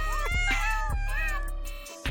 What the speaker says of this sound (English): they're falling out into our reality at a rate of 3 kittens per second